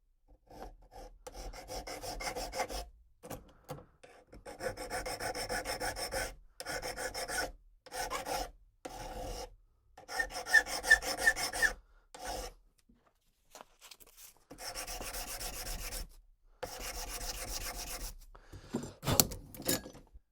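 A hand file rasps against the metal tabs of an SKS rifle dust cover, in repeated bursts of back-and-forth strokes separated by short pauses, close and clear.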